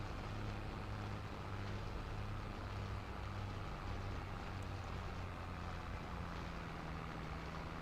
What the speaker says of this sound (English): it looks like the mower is still chugging along and doing their thing